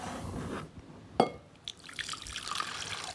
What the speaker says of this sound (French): On peut le laver sous l'eau du robinet